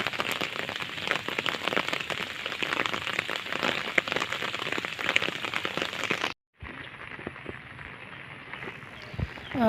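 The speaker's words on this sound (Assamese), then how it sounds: "অকণমান বৰষুণটো কমিছে" Steady rain pours on a flooded rice paddy during monsoon transplanting, a dense hiss for several seconds before a brief cutout and a softer, lighter patter.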